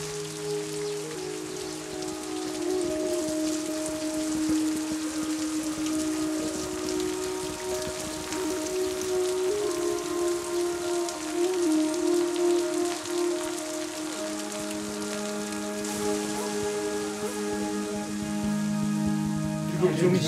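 Heavy rain falls at a mountain monastery during a masked dance festival, a dense, steady hiss of drops on surfaces lasting throughout, with sustained droning tones faintly underneath.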